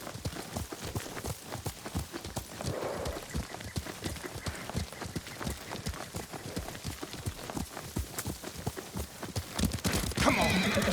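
Rapid clip-clop of galloping hooves runs throughout, with a horse neighing over it, from the video game Ghost of Tsushima; near and steady, with a brief brighter burst near the end.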